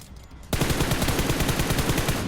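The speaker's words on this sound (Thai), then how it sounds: "มีเสียงปืนอยู่ด้านหลังเราทางซ้ายใกล้นะ" In the mobile shooter game PUBG Mobile, a loud rapid burst of automatic gunfire erupts from close behind after a short quiet lead-in, the shots hammering in quick, even succession until the end.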